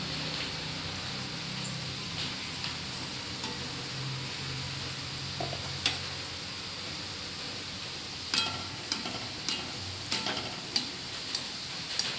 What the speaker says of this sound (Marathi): मिडियम गॅसवर तळायचे मोदक.